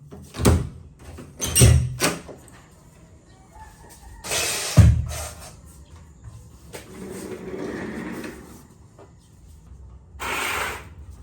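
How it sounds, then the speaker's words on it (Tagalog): Several doors are opened one after another, with bumps, a squeak and sliding rattles spaced apart amid quiet room noise. "Buksan natin yung mga pinto para may hangin"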